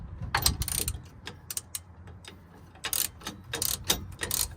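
Hand ratchet working on the suspension U-bolts of a Toyota Tacoma, close and fairly loud, with short bursts of rapid clicking pawl strokes in irregular runs and brief pauses between pulls.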